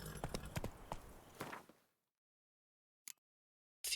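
Horse hooves clip-clopping in the video game The Witcher 3: a quick, close run of hoof beats for about two seconds, then silence broken by brief bursts.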